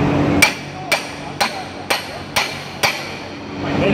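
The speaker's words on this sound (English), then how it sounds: "take a hammer, hold down. I'm going to hit it straight down." A hammer strikes a transmission input shaft straight down during removal and installation, six sharp metallic blows evenly spaced about half a second apart, loud and close over a low background hum.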